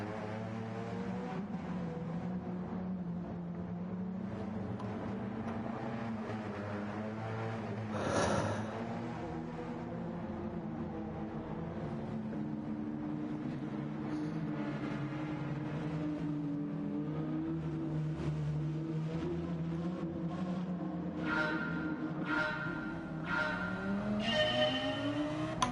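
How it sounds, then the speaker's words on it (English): A V10 race car engine in Gran Turismo 7 wails through rising gear-by-gear revs during an online race, a continuous high-pitched howl with shifting tones and occasional tyre noise, moderately quiet and steady. "You just can't get over the noisy V10."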